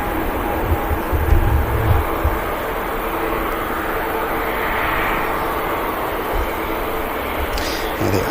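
An Icelandair Boeing 737 MAX on short final approach into Manchester Airport produces a continuous low rumbling roar, moderately near and fairly steady, with a faint swell midway and no voices.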